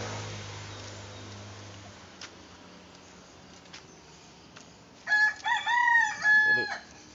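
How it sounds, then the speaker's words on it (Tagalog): A rooster crows twice near the end, loud and nearby, after a stretch of quiet background hiss with faint knocks. "Mayroon tayong konting alagang manok na pulupot pa."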